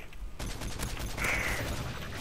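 Gunfire from the video game Modern Warfare 3, a dense burst of rapid shots starting after a brief quiet lead-in and continuing to the end at moderate loudness.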